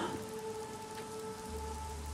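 Night rain in the Days Gone video game, a steady soft hiss of falling rain with low rumble underneath, continuous and fairly faint throughout.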